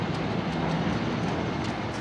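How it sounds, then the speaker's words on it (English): Train returning to Asakusa rolls over a bridge at night, a steady, moderately loud rumble with faint rhythmic clicks of the wheels, heard alone without talk. "You guys see the train going across that bridge?"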